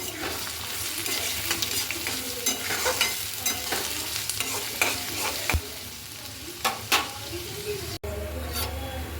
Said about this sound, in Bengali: পেঁয়াজটা একটু একটু ভাজা হবে।